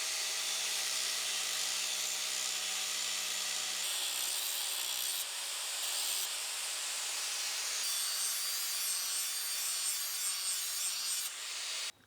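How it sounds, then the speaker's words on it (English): An angle grinder works the teeth of a New Holland 45 sickle bar mower, a bright, steady, close rasping whine that shifts tone slightly between passes and cuts off abruptly at the end. "So I'm gonna grab an angle grinder and try to touch these up."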